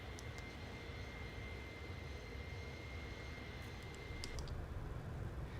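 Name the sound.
iniBuilds A310 airliner engine sounds in video game Microsoft Flight Simulator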